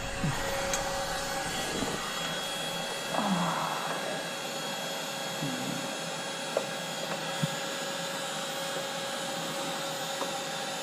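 A cordless heat gun shrinks heat-shrink tubing, giving a steady, moderate blower whir with a faint whine and a few small clicks and bumps on top.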